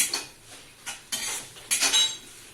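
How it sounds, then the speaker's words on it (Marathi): A spatula scraping and clinking against a pan while onion and turmeric are stirred for a harbhara leaves bhaji, in a few separate metallic strokes with faint sizzling and quiet gaps between them. "कांदा गुलाबीसर परतल्यानंतर हळद परतून घ्यायचे"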